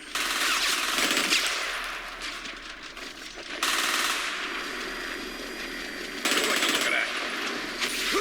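Sustained automatic gunfire from a Batman Arkham Origins multiplayer match, loud dense bursts that run almost without a break, with brief drops in intensity between volleys and a game voice faintly underneath.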